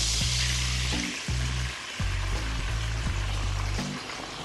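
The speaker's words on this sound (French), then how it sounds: "È il rumore dei pomodorini che cominciano a prendere calore." Canned cherry tomatoes heating in a frying pan give a steady, close hiss of sizzling that runs continuously under a low, pulsing background drone.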